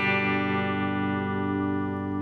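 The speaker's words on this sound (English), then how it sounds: "I've got the red spring reverb, 65 spring reverb." Electric guitar played through a Fender Mustang Micro Plus on its 65 spring reverb setting, a sustained chord ringing out loud and steady with a lush, washy reverb tail and no talking.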